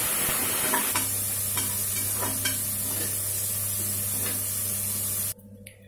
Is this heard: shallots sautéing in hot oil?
yes